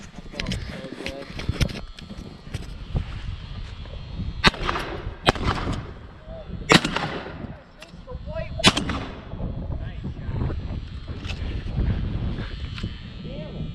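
Shotgun blasts during pigeon hunting in the snow, several sharp, loud reports at irregular intervals outdoors, with people talking throughout between the shots.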